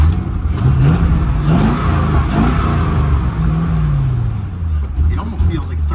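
A high-mileage C5 Corvette with a six-speed, 280,000 miles on it, starts and revs up close, its engine note rising and falling beneath someone talking throughout.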